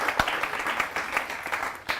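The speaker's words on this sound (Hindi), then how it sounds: "एक बार जोरदार तालियां हो कवि संग्राम के लिए।" An audience claps at a Hindi poetry event called Kavi Sangram, held for India's Independence Day, with a short, dense burst of applause and a few sharper individual claps standing out.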